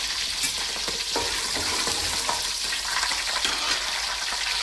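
Curry leaves frying in hot oil with green chillies for a raw prawn curry, a dense, steady crackling sizzle heard up close and fairly loud, without speech.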